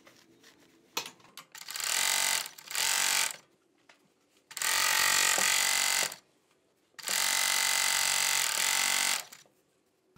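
A 4-thread Jack overlock machine stitches rib onto a sweatshirt in three loud, sustained bursts of rapid mechanical whirring, separated by pauses with quiet handling clicks.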